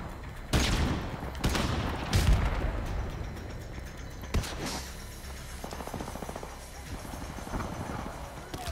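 Gunfire in the multiplayer video game Call of Duty: Modern Warfare (2007), loud bursts and booming shots at irregular intervals, with a rapid automatic rattle later on.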